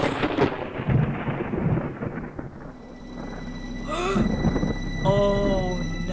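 A thunderstorm in a film scene: a heavy rumbling thunder roll with rain fades out, leaving a quiet hum with a few faint tonal sounds.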